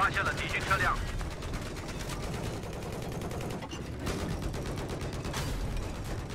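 Rapid bursts of gunfire crackle repeatedly in a Battlefield 4 multiplayer match, mixed with the game's background rumble and some voices talking.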